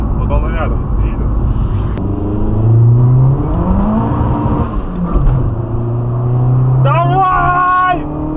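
A Jaguar drives alongside and overtakes, heard from inside a fast turbocharged Lada Kalina on the road; engine drone rises and falls steadily throughout, with a brief higher whine near the end and people talking over it.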